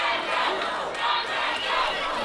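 A wrestling arena crowd hollers and roars continuously at a steady, loud level, a dense wall of shouting voices with slight swells throughout.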